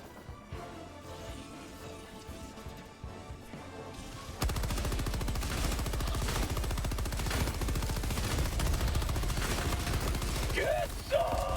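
Rapid automatic gunfire in the video game Helldivers 2 erupts in a sustained loud burst after a few quieter seconds, dense overlapping shots with game sounds mixed in.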